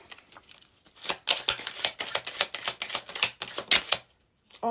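Rapid riffling clicks of a card deck being shuffled, a dense flurry of crisp snaps lasting a few seconds, close up, with no talking.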